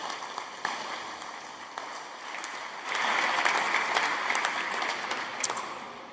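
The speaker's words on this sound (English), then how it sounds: "Can we please give a round of applause to all of the winners?" An audience at an award ceremony applauds the winners with steady clapping that swells and grows louder partway through, sustained without speech.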